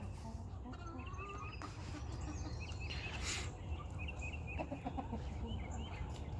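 Backyard chickens cluck and call in short bursts at moderate distance on a cloudy, hazy morning, with a steady outdoor background underneath.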